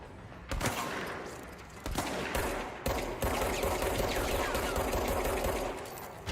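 Rapid enemy gunfire in the action game Control, a dense run of loud, clattering shots in several bursts with brief gaps, close and continuous with no talk over it.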